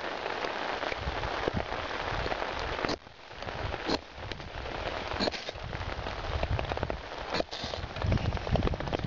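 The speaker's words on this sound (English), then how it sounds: "Getting the rain on it here too." Steady rain patters outdoors at a wild game cleaning and fire starting site, a continuous close hiss with occasional louder drops and thumps, with no talking.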